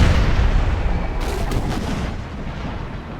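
Artillery cannon fire in an American Civil War battle video game, a dense rumbling barrage of booms with sharper reports layered over continuous low battlefield noise.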